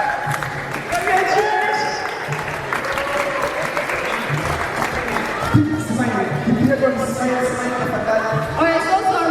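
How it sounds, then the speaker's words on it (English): An audience at a Bitcoin unconference in Kenya claps steadily for several seconds, a dense patter of hands with some cheering and voices mixed in, and a few louder claps near the end. "Let us clap for Willie Jamaica."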